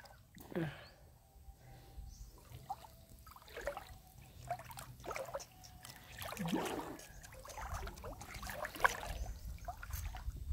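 A small stony river in Palanas, Palompon, Leyte, trickling and babbling over rocks at close range, with people talking intermittently over the steady flow.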